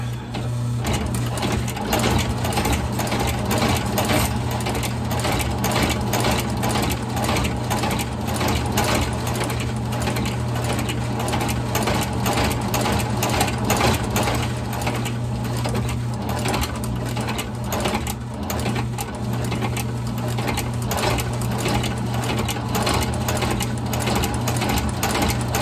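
A sewing machine stitches leather riding boots along a grooved channel, giving a loud, continuous rapid mechanical chatter with a steady low motor hum throughout.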